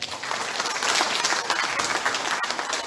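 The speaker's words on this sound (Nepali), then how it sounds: "ताली बजाउनुहोस्" A church congregation applauds during a sermon on discipleship, a dense, even wash of many hands clapping together that holds steady for a few seconds.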